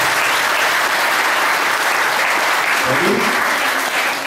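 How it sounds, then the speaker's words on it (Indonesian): An audience claps steadily and densely throughout, with a brief spoken word near the end during a teen meditation session. "Tepuk tangan."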